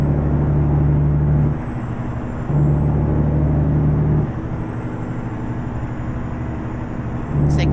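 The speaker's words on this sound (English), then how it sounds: "The Jakes sound great on the Caterpillar, but that sounds more turbo-y than rumbly" Caterpillar diesel engine on a heavy truck in American Truck Simulator, rumbling steadily with a loud low drone that cuts in and out in sections, suggesting engine-brake pulses, with a brief hiss near the end.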